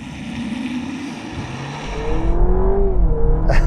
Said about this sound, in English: It sounds like the old car, but that noise is fake.